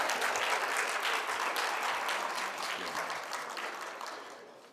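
Audience at a debate breaks into sustained applause, a dense wash of many clapping hands that holds steady and then slowly tapers off, with no talking over it.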